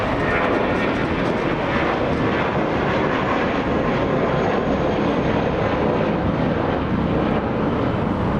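A JetBlue jet airliner in special livery at Los Angeles International Airport roars steadily and loudly throughout, a broad continuous engine rush with wind buffeting and no talk.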